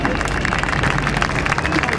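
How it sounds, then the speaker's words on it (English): Crowd applause at an air show for Air Force Academy parachute jumpers, a steady patter of clapping from spectators heard close and continuous under an announcer's voice. "Let's give them a big round of applause, ladies and gentlemen."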